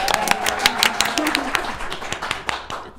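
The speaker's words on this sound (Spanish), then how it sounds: "Un aplauso." A studio audience on a Spanish-language talk show applauds a guest, with sharp individual claps spread through a short burst, partly under voices talking.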